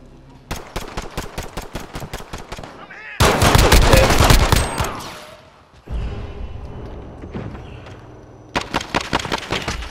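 Bursts of rapid automatic fire in Call of Duty Modern Warfare, close and loud, with a heavy roaring blast in the middle and another burst of shots at the end.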